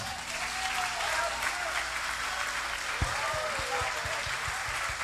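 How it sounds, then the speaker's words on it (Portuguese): A church congregation claps in a steady, moderate wash of applause, with low rhythmic thumps joining partway through. "Vamos aplaudir, vamos aplaudir mesmo."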